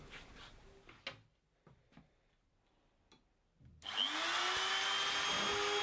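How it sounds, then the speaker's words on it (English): Faint knocks and handling clatter come first, then a trim router with a fixed base roars to life and holds a loud, steady high whine while cutting out corners for mounting plates on wooden tool shelves. "As these little trim routers have a fixed base, I'm having to manual plunge to start and stop the cut"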